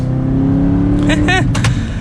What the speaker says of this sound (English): We'll do one last acceleration here